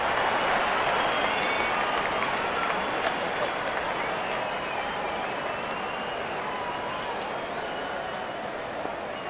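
Sustained, loud crowd cheering and applause at a cricket match after a six is hit, a dense continuous wash of clapping and shouting that stays strong throughout.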